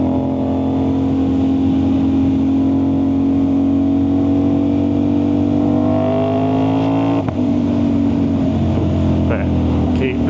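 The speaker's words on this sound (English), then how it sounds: "That's the problem sometimes with a loud exhaust." An Aprilia RS660 sport motorcycle with a loud exhaust drones with a deep note, the pitch climbing steadily as it accelerates, then dipping briefly before revving on.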